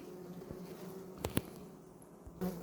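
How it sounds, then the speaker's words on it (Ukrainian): Quiet, steady hum of honey bees buzzing close by inside a crowded hive, with a few faint knocks and clicks scattered through. "Бджоли багато, битком набито в кожній вулиці"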